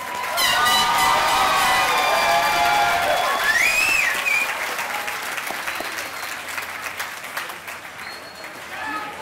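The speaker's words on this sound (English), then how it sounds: "Let's have one more applause for all the MREG graduates." A commencement crowd applauds real estate development graduates at a USC graduate ceremony, loud sustained clapping with a few cheers that slowly eases off toward the end.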